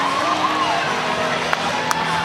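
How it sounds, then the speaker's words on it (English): Crowd in Carmichael Arena at a college gymnastics meet cheering after a landing, a steady wash of shouts and whoops with a couple of sharp claps standing out. "Absolutely ignites the crowd in Carmichael Arena."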